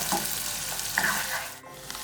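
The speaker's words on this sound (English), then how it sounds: "So onion has been cooking for the last 5 minutes, it's almost half done." Onion frying in a pan for matar paneer, a dense continuous sizzle up close with brief stirring scrapes, heard alone.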